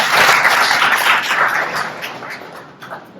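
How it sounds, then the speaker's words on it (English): An audience in a workshop hall applauds a student, a dense burst of clapping that starts strong and gradually thins and fades over a few seconds. "Shall we give him a round of applause?"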